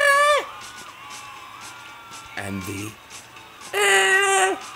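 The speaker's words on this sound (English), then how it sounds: "there are actually two different sounds for screaming." Two differently pitched screams from the video game Nuclear Eagle, Level 10, each a short, loud, high-pitched cry with a falling end, separated by about three seconds in which a voice speaks briefly.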